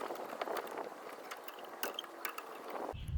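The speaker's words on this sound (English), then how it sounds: "Now I'm going to compress this piston here so we can slide it over the brake pads." A caliper piston compressor adapter is twisted against the rear brake of a 2014-2024 Mini Cooper S (F56), giving a run of close, crisp ratcheting clicks and small metallic ticks, with no talking.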